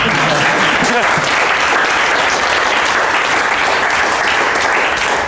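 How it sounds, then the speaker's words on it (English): Loud, close applause from a crowd at a motivational speaking event, thick continuous clapping filling the whole stretch, with a brief voice near the start. "You can clap if you want."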